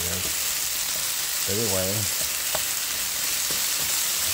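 Breakfast of cheese and mushrooms frying in a pan, a steady close sizzle with faint stirring clicks, while someone speaks briefly over it.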